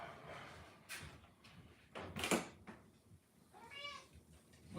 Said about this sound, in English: I do have 2 cats. And the more vocal of the two, he's at the door right now,